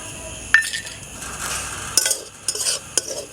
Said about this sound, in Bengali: দু থেকে তিন মিনিট ভেজে নেব